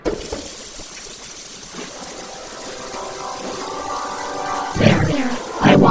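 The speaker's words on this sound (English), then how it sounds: "turn on the water tap" Water from a bathroom tap in an animated short runs as a steady, fairly quiet hiss, with brief louder splashes and gurgles in the last second, alone without talk.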